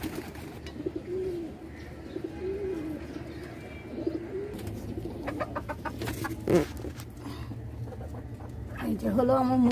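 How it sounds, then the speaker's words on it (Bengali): Hens kept shut in a pen at a home with pigeons, clucking in scattered bursts near the microphone, with bird calls and a voice speaking partway through. "এই যে হলো আমার মুরগিগুলো"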